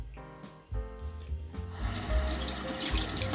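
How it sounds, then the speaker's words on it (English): Tap water running into a sink while an alum block is rinsed during a shave, a few brief splashes and then a steady, full gush of water close by. "Rinse the alum block and I'll rinse my face."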